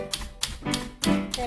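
A typewriter played as a percussion solo, its keys struck in a quick, uneven run of sharp clacks with a faint bell-like ring near the end.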